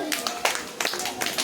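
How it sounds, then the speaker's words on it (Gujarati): Children in a classroom clap their hands in a few quick, uneven bursts with a teacher's voice close by. "સરસ, ચલો તાળી પાડો."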